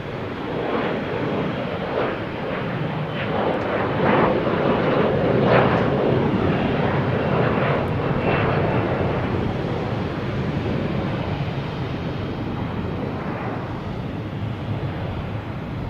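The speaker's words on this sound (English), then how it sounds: "Here we have E175 going to LaGuardia." An Embraer E175 jet passing at Boston Logan Airport, a broad steady engine roar that swells and then holds at a distance, with wind buffeting the microphone.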